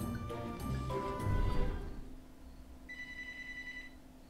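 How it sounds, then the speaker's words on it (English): A telephone rings with a short electronic chirping tone over a busy, muddled stretch of game background noise that quiets before the ring. "And I get a phone call."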